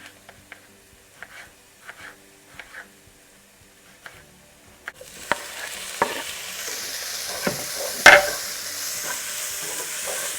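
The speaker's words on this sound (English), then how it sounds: "Now goes in the garlic, chili, and just cook this for a couple of minutes." Garlic and chili hit a hot pan, and a soft sizzle swells up and holds steady with occasional stirring clicks and scrapes, close by and without talking.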